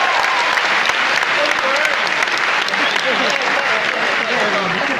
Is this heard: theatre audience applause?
yes